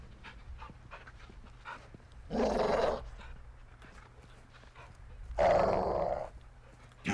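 A large caged dog growls and pants in the first-person shooter Call of Duty: Modern Warfare II, with two loud, rough, sustained rumbling growls, each lasting about half a second or longer, standing out over quieter ambient game sound.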